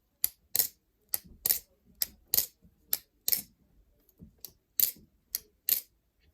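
Crisp metallic clicks and clacks in quick irregular bursts of a balisong butterfly knife being flipped open and closed with the latch open, close up with silence between.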